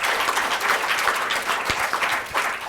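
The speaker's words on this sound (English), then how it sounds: "I have to ask you to clap that quote." Keynote audience at a mental health talk claps loudly and steadily after a quoted line, a dense, close burst of hand clapping with no voices.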